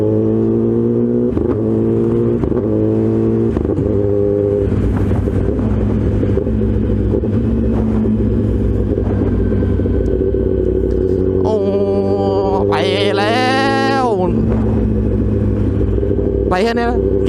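Kawasaki ZX-10R big bike on a ride through narrow local streets, its engine a steady loud rumble with rising and falling revs, and other traffic noise passing around it.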